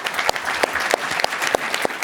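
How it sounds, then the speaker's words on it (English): An audience at an evening tribute event applauds steadily, a dense wash of many hands with a few louder individual claps standing out at a regular beat. "a round of applause for all of you"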